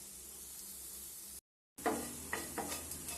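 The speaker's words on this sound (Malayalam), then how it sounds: "നമ്മുടെ ചെമ്മീൻ നല്ലതുപോലെ ഫ്രൈ ആയിട്ടുണ്ട്." Shrimp fry in a pan with a soft, steady sizzle, which is cut by a short silence and then resumes with a few stirring knocks and clicks up close.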